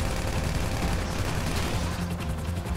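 Dense, continuous gunfire from GTA 5 Online, loud and close, a rapid burst of overlapping shots with no pauses and no talking.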